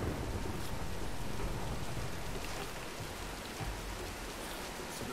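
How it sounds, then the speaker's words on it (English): Steady heavy rain pours during a thunderstorm in Tomb Raider Game of the Year Edition, with low rumbling thunder rolling beneath a dense, continuous hiss that eases slightly midway. "let's wait out the storm."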